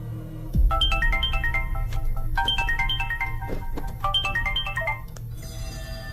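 A phone ringtone plays a repeating descending run of bright electronic tones in three phrases over a low background rumble, clear and close.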